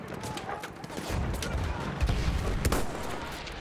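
Battlefield 1 gunfire, a rumbling battlefield din of distant fusillade and artillery-like booms with scattered shots, moderately loud and continuous, with someone talking over it.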